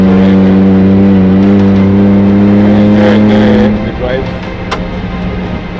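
A vehicle engine drones loud and close as it drives over an extremely rough, rocky trail in northern Kenya, holding a steady low hum before easing off, with a voice talking over it.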